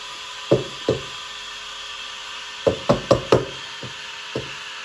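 Used coffee grounds are knocked out of a Breville Oracle espresso machine, with sharp, hollow wooden-sounding knocks: two at first, then a quick cluster of four and a few softer taps after.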